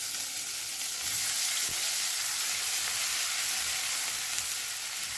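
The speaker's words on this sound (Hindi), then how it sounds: "जैसे ये सौते हो रही है," Garlic ginger paste fries in a hot pan with a steady, even sizzle and faint crackle, a continuous soft hiss with no talk over it.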